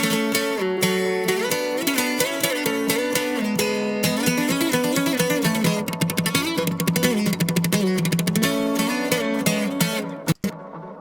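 Guitar in a sierreño corridos tumbados mix, played with a quarter-note delay pitched up an octave, giving dense, continuous repeating melodic lines that fill the clip at full level, with no voices.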